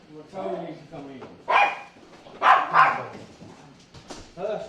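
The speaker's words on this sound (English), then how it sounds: "Oh, they're barking at poor old Toby." Small dogs bark in several short, sharp bursts at close range, with a person talking throughout on a farm.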